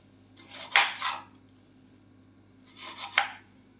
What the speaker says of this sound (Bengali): সবুজ টমেটোটা এরকমভাবে পাতলা পাতলা করে কেটে নিতে হবে।